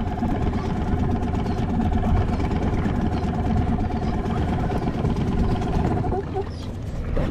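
Fishing boat engine chugging at sea while king fish are caught off New Zealand, a close, steady mechanical putter with a rapid knocking rhythm that continues throughout.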